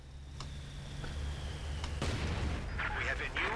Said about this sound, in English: it's going to be mortars instead on the Osttroop, and that's a good call